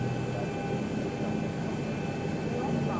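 Boeing 737 jet engines spool up during start in the X-Plane 11 flight simulator, heard as a steady, dense whine and roar with a thin high tone running through it, constant and fairly loud throughout.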